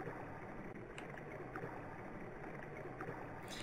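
Steady flowing water ambience from the Waterfall area of the video game Undertale, a continuous gurgling stream-like wash that holds even and moderately loud throughout with no talking.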